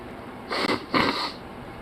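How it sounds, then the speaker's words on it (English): Two short, breathy nose blows in quick succession, close and fairly loud, then quiet. "Blow my nose."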